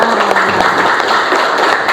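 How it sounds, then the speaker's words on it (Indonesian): A group of people in a classroom bursts into brief, dense applause, with many hands clapping close by. "Oke, tepuk tangan buat yang lain."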